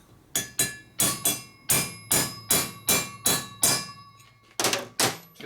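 Part being hammered into a 1978 Harley-Davidson shovelhead engine head for a tight press fit: about a dozen sharp metallic hammer blows in a steady rhythm, close and ringing, with a short pause before the last two strikes.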